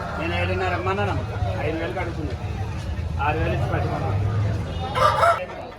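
A fighting rooster crows several times amid steady crowd chatter and bustle at the Gokavaram rooster market, the calls rising out of the noisy background.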